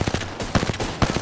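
Rapid automatic gunfire in the Apex Legends battle royale video game, with close, loud bursts of shots and short gaps between them and no voice over them.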